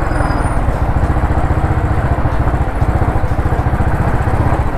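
A Royal Enfield Continental GT 535 motorcycle engine runs close by at a steady idle, its fast, even thumping pulse loud and continuous throughout with no voices.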